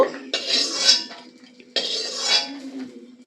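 Metal utensils clink and scrape against a pan as fried lentil dumplings are lifted out, two distinct bursts of clattering close by, with no talk.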